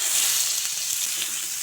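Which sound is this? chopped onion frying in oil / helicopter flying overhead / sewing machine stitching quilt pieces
chopped onion frying in oil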